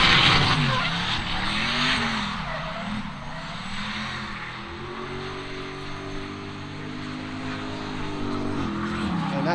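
A JDM drift car with Weiss fab parts and coilovers slides and skids during drifting, loud continuous tire squeal and engine roar with shifting pitch, sustained throughout.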